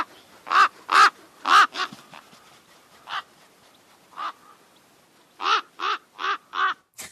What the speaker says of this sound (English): It was a white raven from the Citadel.